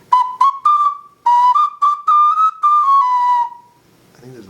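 A handmade ceramic clay whistle is blown in a rapid series of short and sustained high-pitched toots, loud and close, with brief pitch wavers, then fading to quiet.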